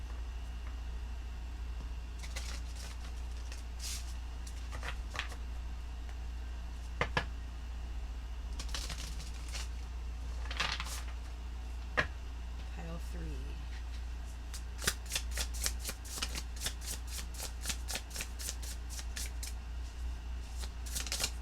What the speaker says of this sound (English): So let's go ahead and pull some cards.